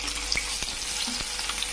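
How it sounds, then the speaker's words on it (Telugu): Sliced onions hit hot oil with green chillies and whole spices, a short burst of close sizzling with a few light clinks of a spoon against the pan. "ఉల్లిపాయ ముక్కలు కూడా వేసుకుంటున్నాం"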